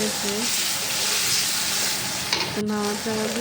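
Onions with salt and chili sizzle in a pan after a splash of water is added, making a steady loud hiss and bubbling for a fish and pointed-gourd curry, with a voice speaking briefly.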